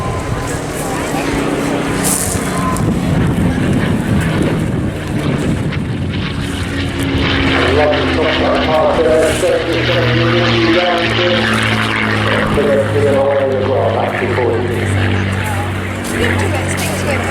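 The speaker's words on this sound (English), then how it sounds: "Back in 2020, this aircraft was repainted in the colours of the legendary Colonel Donald Flint" Rolls-Royce Heritage Flight propeller aircraft flying at the Eastbourne Airshow, its engine droning steadily at a distance, with a voice talking over it throughout.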